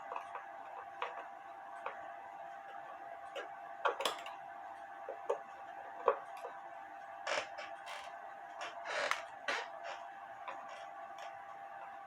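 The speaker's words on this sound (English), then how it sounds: "Now I have to undo the 4 screws to get the movement out." Four screws are undone to free the movement of an antique Schmeckenbecher cuckoo quail clock, with faint creaks, small metallic clicks and taps against a steady ticking hum, close and quiet, with no talking.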